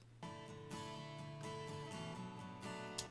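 An acoustic guitar is strummed with a capo fitted, its bright sustained chords washed in reverb and ringing together in a dense, steady wall of sound with no voices.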